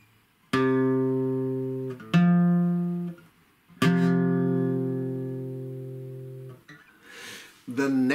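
Electric guitar plays a simple riff in parallel perfect fourths, a few sustained harmonic-rich chords ringing out one after another with gaps, played alone without talk.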